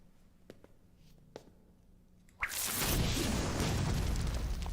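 A Bombarda blasting spell in a Harry Potter radio drama erupts as a sudden loud explosion, a sharp burst followed by a sustained roaring rumble that fills the rest of the clip after a few quiet ticks.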